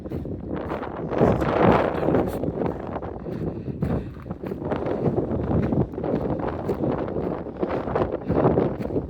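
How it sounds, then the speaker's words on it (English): Strong wind on a hillside hiking trail in Draper, Utah buffets the microphone in loud, continuous gusts, a rough roaring rumble that surges and eases without pause. "Still kind of windy and cold."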